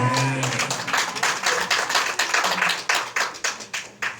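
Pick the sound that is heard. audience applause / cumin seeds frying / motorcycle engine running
audience applause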